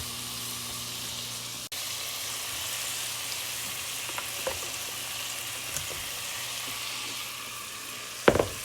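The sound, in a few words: onions cooking down and being stirred in a pan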